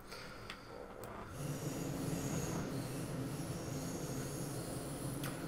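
An ICE high-speed train rolls into a station in the Train Sim World 2 game, a steady rumble of wheels on rails that swells after the first second and holds, with faint squeals and clicks.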